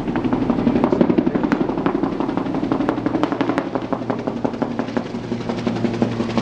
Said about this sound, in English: Well, there's a helicopter coming over,